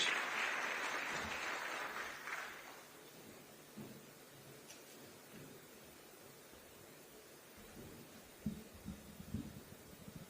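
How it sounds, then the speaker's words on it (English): Audience applause at a formal Kenyan launch event with the President present, clapping that is fairly loud at first, fades within a few seconds, then leaves faint scattered thumps and low room noise. "Let's encourage him with a clap as he comes to the stage."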